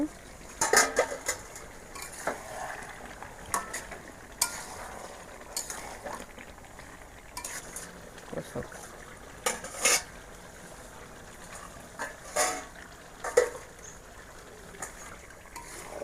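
Chicken curry in a pot gets stirred with a spoon, giving scattered metallic clinks and scrapes against the pot at irregular intervals over a faint low sizzle, close up with no talk.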